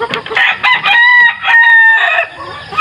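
A mestizo gamecock rooster crows loudly and close by, one full cock-a-doodle-doo call with a few clucking notes around it, heard alone without talk.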